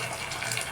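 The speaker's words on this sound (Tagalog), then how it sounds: "Tapos lagyan natin sa mga tubig." Water pouring into a cooking pan of sardines, a steady broadband gush running continuously and fairly close, with no talk over it.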